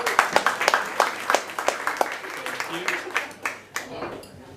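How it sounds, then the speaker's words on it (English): An audience at a drinks and pitch night meetup claps for a presenter. The applause is scattered and moderately close from a modest crowd, and it thins out and fades toward the end. "Round of applause, please."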